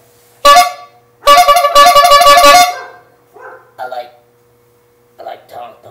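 A horn on an old tricycle honks in two loud, close, buzzing blasts, the second held longer, followed by a few short quieter toots.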